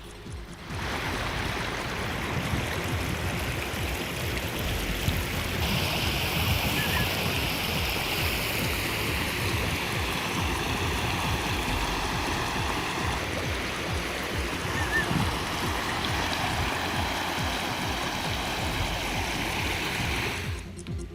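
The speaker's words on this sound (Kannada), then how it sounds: "ಧಾರಾಕಾರ ಮಳೆಗೆ ಚಳ್ಳಕೆರೆಯಲ್ಲಿರುವ ದೇವರಹಳ್ಳಿ ಹಳ್ಳ ತುಂಬಿ ಹರಿತಾ ಇದೆ." A stream in Challakere, swollen by heavy rain, rushes past in a steady, moderately loud roar of flowing water that stays constant throughout without talk.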